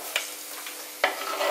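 Soya chunks frying golden brown in hot coconut oil, a soft sizzle with a couple of sharp stirring scrapes, close and fairly quiet, no voices.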